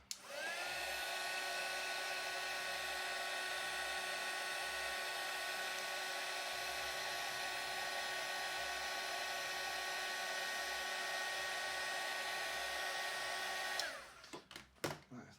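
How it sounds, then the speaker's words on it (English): A heat gun used to shrink heat shrink tubing runs loud and steady with a whining motor hum for about fourteen seconds, then cuts off into a few clicks and handling sounds. "that heat shrinking stuff, the heat gun"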